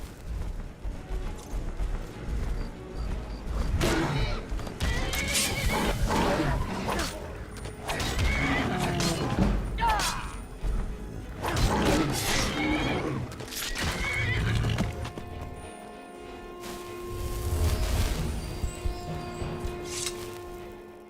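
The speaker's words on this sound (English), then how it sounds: "let's just go put our horse over here." Whinnies from a horse in the video game Skyrim, several loud neighs spread over the clip along with some hoof and mechanical game sounds and a little speech.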